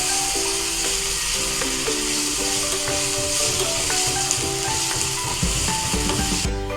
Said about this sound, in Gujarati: હિંગ ઉમેરી 1 નાની ચમચી અને આ આદુ મરચાં ઉમેરી દઈશું